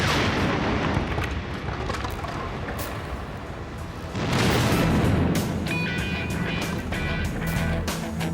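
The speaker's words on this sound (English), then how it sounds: "Myth undeniably proved a tree cannon can explode." A heavy rumbling roar is suddenly topped by a loud, sharp blast as a sealed tree cannon packed with 5 pounds of gunpowder explodes, followed by sustained crackling and scattered debris noise.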